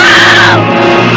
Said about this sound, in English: the girl water skiing is screaming